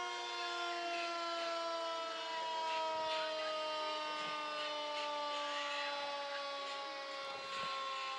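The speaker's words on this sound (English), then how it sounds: "That is the longest siren I think I've ever heard." A fire vehicle's siren at a July 4th parade holds one long, continuous wailing tone for several seconds, steady and fairly distant with faint crowd noise beneath.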